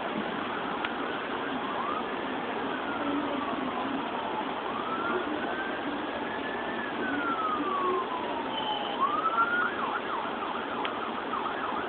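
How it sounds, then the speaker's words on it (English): A siren wails slowly up and down far away during a thunderstorm, faint beneath a constant steady hiss of rain or background noise. "I hear a siren in the distance."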